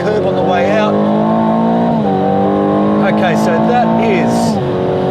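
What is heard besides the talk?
Aston Martin Vantage 2024 V8 accelerating on track straight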